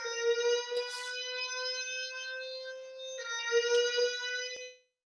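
A building fire alarm test sounds a loud, steady electronic tone that breaks briefly partway through, then resumes and cuts off abruptly.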